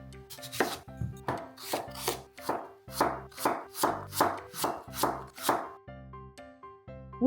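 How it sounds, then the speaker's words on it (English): A knife chops young radish into cubes on a board in a steady rhythm of about a dozen crisp, close strokes, each a sharp thud with a brief scraping tail, no voices. "let's chop our radish. I'm cutting it into cubes today rather than julienning it"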